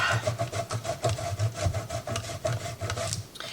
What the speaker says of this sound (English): And then I'm going to grate up some more.